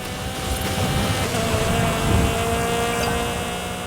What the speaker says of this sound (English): This is a level 5 Ford Focus RS.